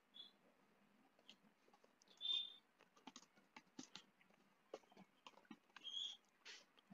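Sparse, quiet keystrokes on a computer keyboard while code is being typed, with short irregular taps and a few small bursts separated by pauses.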